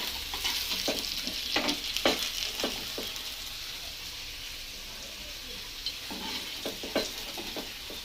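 Fish frying in a pan of oil, a continuous close sizzle broken by scraping stirs and sharp spatula clacks as pieces are turned and lifted out, with no voices.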